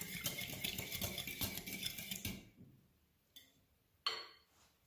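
Oil being stirred into a mixture in a bowl while making a savory cheese pie, with a steady run of scraping utensil clinks for a couple of seconds, then a few isolated louder clinks against the bowl.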